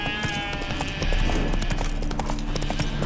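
Rhythmic horse hooves clip-clop at a steady walking pace in the video game The Witcher 3: Wild Hunt, fairly close and loud, over a faint musical background.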